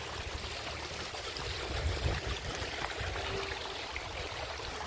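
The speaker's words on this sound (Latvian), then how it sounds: "Vietējais ūdens kritums." Water from a small local waterfall trickles down a hillside, a steady broadband splashing wash running continuously at moderate level with faint low rumble beneath.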